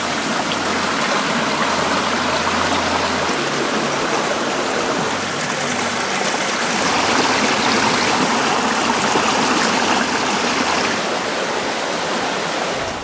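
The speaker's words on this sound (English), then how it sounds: "We're getting close to the creek, so starting to hear it really good right now." Creek water rushes steadily along a trail near Rattlesnake Bar and Peninsula Campground, a loud, continuous broadband flow filling the whole stretch with no voices.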